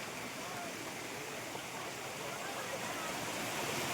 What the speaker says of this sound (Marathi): खूप छान असा आहे तिथे धबधबा. तर चला जाऊया, आपण जवळच आहे आणि त्या धबधब्याचा हा मधनं पाणी खाली येत आहे.